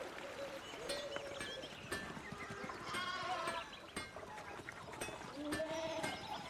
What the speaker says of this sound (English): Would you get out of here, sheeps?